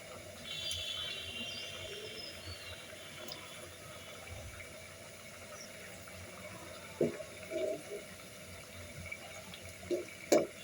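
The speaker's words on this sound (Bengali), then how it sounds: "পরিমাণ মতো পানি দিয়ে মাছ, আগে থেকে ভেজে রাখা মাছ আমি দিয়ে দিচ্ছি" Water is poured into a pan of previously fried fish being cooked with bean seeds, giving a steady low splashing and trickling pour with a few sharper clinks near the end.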